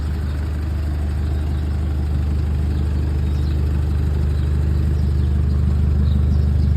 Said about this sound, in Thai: เครื่องยนต์เดินเรียบๆเลย